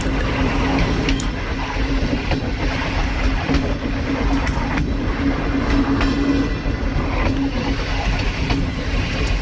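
A train runs through a station on a single line, its steady rumble loud and continuous with repeated clickety-clack wheel beats and occasional sharp metallic clicks.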